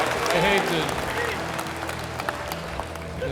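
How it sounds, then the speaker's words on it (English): Audience applause at a live screening event, a steady dense clapping that fills the room, with crowd noise and a voice mixed under it. "what are you clapping for"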